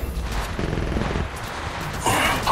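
Rapid gunfire rattles through a video game shootout, dense overlapping shots firing continuously and loudly for a couple of seconds with a sharp burst near the end.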